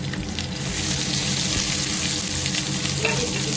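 Tempering spices sizzle loudly and steadily in hot oil in a pan for jackfruit curry, a continuous dense crackling hiss close up, with no talking.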